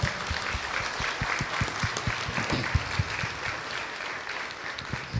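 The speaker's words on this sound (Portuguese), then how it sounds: "vamos dar uma salva de palmas para esses catequizandos" A church congregation at Mass claps for catechism students, a steady, moderately loud patter of many hands with distinct individual claps standing out, continuing without speech.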